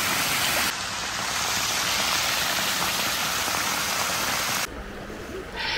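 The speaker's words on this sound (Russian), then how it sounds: "Водопад." Water pours over the white travertine terraces at Pamukkale, Turkey, in a loud, continuous rushing roar that drops off suddenly near the end.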